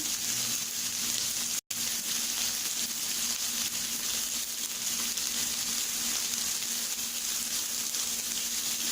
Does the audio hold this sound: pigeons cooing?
no